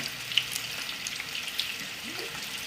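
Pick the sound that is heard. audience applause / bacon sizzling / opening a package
bacon sizzling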